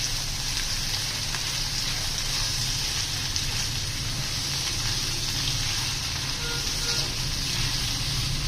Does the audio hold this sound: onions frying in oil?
yes